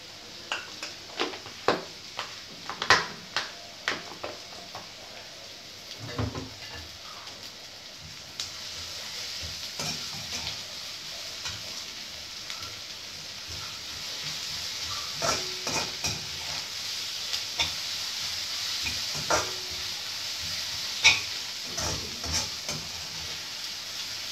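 Garlic fries in a pan: a spoon clatters and scrapes in quick stirring strokes at first, then a steady, building sizzle carries on with occasional scrapes, close and clear, no talking.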